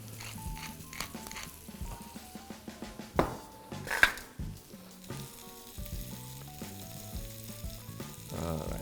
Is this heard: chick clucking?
no